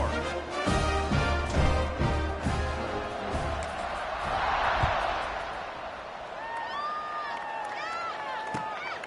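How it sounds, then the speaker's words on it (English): A college football stadium crowd at Stanford versus California roars and buzzes after a score, a dense, sustained wash of noise under an announcer's voice, with band or horn tones rising toward the end. "this crowd is buzzing after that last score"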